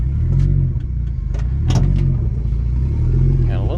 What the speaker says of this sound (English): It's idling a little lower than a guy would like.